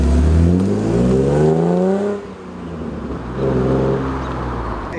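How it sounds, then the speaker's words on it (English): A BMW E36 M3 with short gears pulls hard from close by, engine note climbing quickly in pitch, dropping briefly at a gear change, then rising again through the next gear. "so you're just like smashing through the gears."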